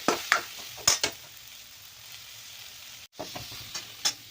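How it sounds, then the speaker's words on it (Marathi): Ridge gourd tossed into a pan with chilli, turmeric and coriander powder, giving a soft, steady sizzle with a few sharp clatters of a spoon stirring against the pan, no talking. "आता टाकणार आहे आपण त्याच्यामध्ये दोडका। तर दोडक्याला छान परतून घेणार आहे।"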